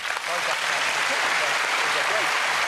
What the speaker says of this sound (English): I think a round of applause for both.